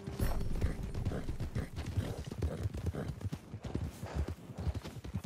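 Horse hooves clip-clop steadily in Red Dead Redemption 2 as an unsaddled temporary horse moves along, a dense, continuous rhythm of hoof strikes heard up close with a faint whinny-like sound in the mix.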